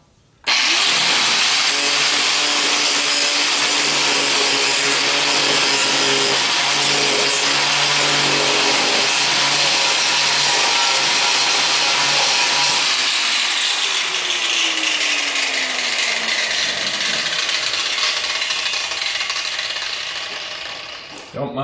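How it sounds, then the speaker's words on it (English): An angle grinder cuts down a welded reinforcement on a 1976 Corvette frame: a loud, harsh, continuous metallic grind for about twenty seconds that slowly shifts in tone as the disc bites and eases, ending with a winding-down whir. "Don't mind if I grind that reinforcement down a little bit"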